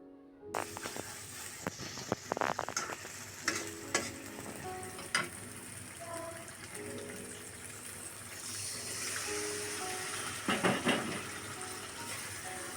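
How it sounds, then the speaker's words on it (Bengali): Hilsa fish pieces in mustard spice paste are stirred in a pan, with faint sizzling under repeated scraping and clinking strokes of a spatula, close and fairly quiet. "মশলা সহ মাছটাকে এবার সামান্য নেড়েচেড়ে কষিয়ে নেব"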